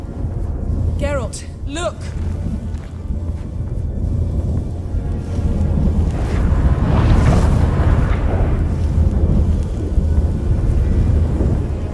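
Stormy weather in The Witcher 3 as a rift opens, deep rumbling thunder and rushing wind swelling louder midway and holding, with brief shouted voices early on.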